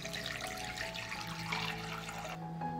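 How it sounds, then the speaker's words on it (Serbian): Water pours into a cooking pot lined with a cloth on the bottom and packed with open glass jars, filling toward lid height, a steady close splashing rush with no talk, cutting to quieter at the end. "Sipat ću vodu do visine poklopca."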